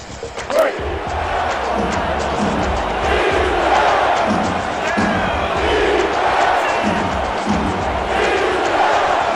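Steady wash of a football stadium crowd of Mauler fans in Minneapolis during a lopsided game, a constant loud murmur with occasional thumps and faint shouts.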